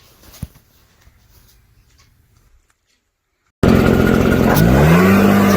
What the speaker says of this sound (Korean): 이제 그 조립이 완료된 브로아를 사용하는 영상이에요.